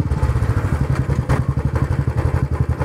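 A Royal Enfield Classic 350 motorcycle engine runs close by with a steady, rapid thumping pulse, fairly loud throughout the short stretch.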